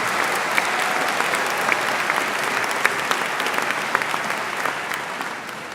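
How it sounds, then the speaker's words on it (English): Sustained applause from the audience at a Birmingham City University graduation ceremony, saluting the band: a steady wash of clapping with scattered sharper claps that eases slightly toward the end. "Give them a big round of applause."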